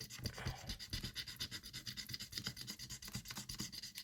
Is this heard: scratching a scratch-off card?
yes